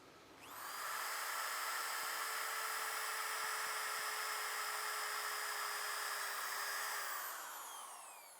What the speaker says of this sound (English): Now that I've got these holes drilled,